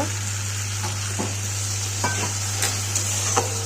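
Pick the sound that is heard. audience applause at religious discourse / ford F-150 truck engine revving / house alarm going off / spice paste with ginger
spice paste with ginger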